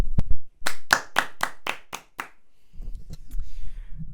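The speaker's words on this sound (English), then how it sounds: "who are we giving the round of applause? Danny Welbeck, of course." Podcast hosts clap in a quick round of applause, about eight sharp, close-up hand claps in a row, followed by quiet room noise.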